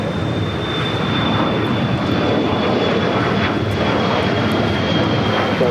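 An airliner takes off at LAX, its engines giving a loud, steady roar with a thin high whine running through it, close and unbroken, with no voices.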